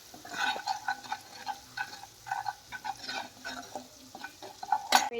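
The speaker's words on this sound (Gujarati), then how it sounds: "આપણે ટમેટા ગળી જાય ત્યાં સુધી હલાવવાનું છે." Tomatoes cooking down in a pan while being stirred, rhythmic spoon scrapes and light metallic taps over gentle frying sizzle, close and steady, ending with a sharper clink, no speech.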